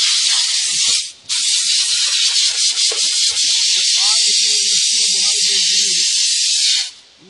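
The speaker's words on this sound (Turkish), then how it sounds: "bu ağır buhar uygulaması yapıyoruz" A heavy-duty steam cleaner sprays a loud, continuous hiss of steam during detail cleaning, cutting off briefly once, with faint tonal squeaks and a voice murmuring underneath.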